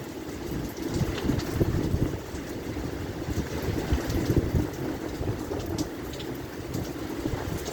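Strong wind roars steadily during a severe thunderstorm, close to the microphone and loud throughout, with a rushing, gusty texture and no voices.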